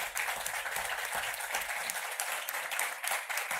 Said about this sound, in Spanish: ese aplauso es para ustedes